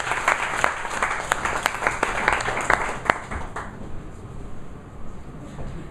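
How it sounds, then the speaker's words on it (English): Audience applause at a Toastmasters meeting, a lively round of many hands clapping in a room, loud at first and then thinning out and fading over the final seconds. "Can we have here a loud round of applause"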